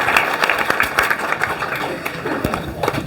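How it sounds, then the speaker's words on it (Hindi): A live audience gives a loud, dense round of clapping at an indoor ceremony honoring a girl who topped the SSC GD 2024 results in Uttar Pradesh, with steady sharp hand claps filling the whole stretch. "चलिए एक बार जोरदार ताली हो जाए"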